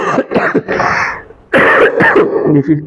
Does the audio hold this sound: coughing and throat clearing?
yes